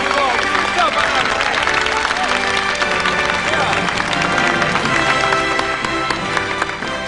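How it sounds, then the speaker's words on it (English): A studio audience at a 1985 comedy special applauds loudly and steadily for the full seven seconds. Cheering and a babble of crowd voices are mixed in, with dense, tonal sound throughout. "Give yourself a nice round of applause."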